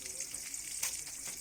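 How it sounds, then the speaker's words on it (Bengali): Pointed gourd (potol) frying in a pan at a home kitchen at night, giving a steady, close hiss of sizzling oil with no pauses. "পটল ভাজা করছি, ডালটা গরম করছি।"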